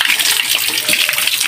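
Water pours out in a steady, loud, continuous gush, close by and alone without talk.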